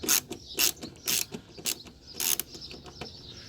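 Screw being worked loose from a Toyota Yaris Mk1 car part, a series of close, sharp ratcheting clicks in short bursts with pauses between them.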